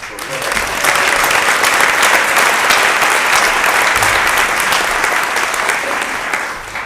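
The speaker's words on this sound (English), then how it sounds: "we should give a round of applause to Sarah and Ron and her entire team" A conference audience gives a round of applause for Sarah, Ron and team, dense clapping building within a second and holding strong and steady for several seconds before easing slightly.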